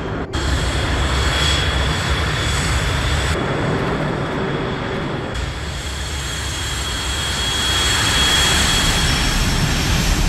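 Jet aircraft engines whine and roar steadily while taxiing to the runway in the Ace Combat Assault Horizon video game, a loud continuous drone that dips briefly partway through.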